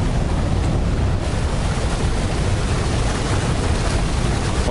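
American Falls at Niagara Falls roaring in a dense, constant rush of falling water, loud and unbroken throughout, with no voices.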